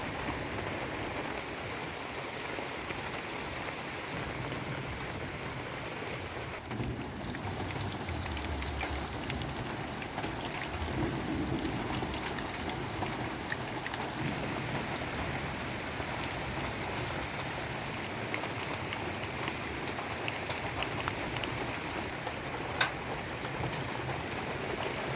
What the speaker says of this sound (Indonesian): ini soalnya kondisinya tuh lagi hujan deras ya